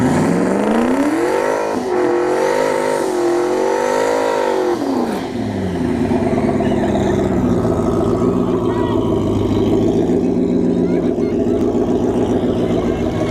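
A turbocharged Ford Mustang S197 races down a drag strip, its engine note rising and falling through gears before settling into a loud sustained drone, with a commentator talking over it.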